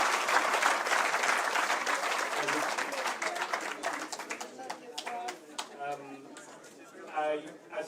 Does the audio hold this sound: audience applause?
yes